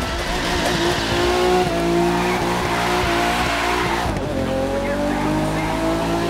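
A car drifts in The Crew 2 racing game, its tires squealing in long sliding screeches over a loud engine drone, with a brief shift near the middle before the squeal resumes.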